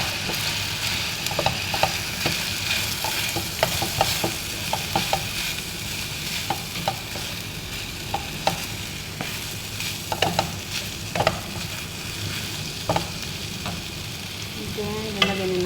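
Fried rice with soy sauce sizzles steadily in a hot pan, with frequent scraping and tapping of a spatula stirring it throughout.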